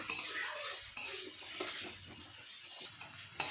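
Onion frying in oil in a pan, heard as quiet scraping and stirring clatter of a utensil against the pan with a faint sizzle underneath.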